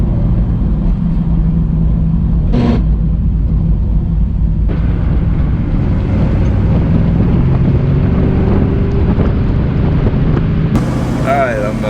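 A car with a newly installed Silver Sport transmission drives at gentle speed, a steady low engine and road rumble filling the cabin with wind noise, a brief mid-range whine near the start and a louder shift near the end.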